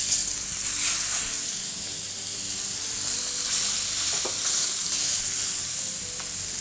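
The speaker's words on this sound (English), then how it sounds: "Next, we'll add some oil, swirl the coat well, and we'll add our fillets." Steak fillets sear in hot oil in a stainless steel pan, a steady, loud, bright sizzle filling the whole stretch with a few faint crackles and pops, no voices over it.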